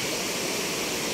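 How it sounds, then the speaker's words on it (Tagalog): River water flows in a steady, full rushing wash, loud and continuous like a small waterfall, with no voices over it. "ang ganda ng ilog dito."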